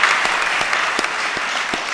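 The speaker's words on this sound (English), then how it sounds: "Let's give them a real big round of applause." Loud, dense applause from a crowd at a city council ceremony honoring the Super Bowl champion Philadelphia Eagles, a brief continuous burst of clapping with a few sharper individual claps standing out.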